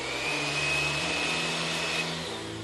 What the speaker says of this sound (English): We're going to beat that just to combine real quick.